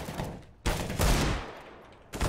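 Gunfire in Counter-Strike on the Mirage map: a few sharp, loud shots and short bursts with quiet gaps between them, heard alone with no talking.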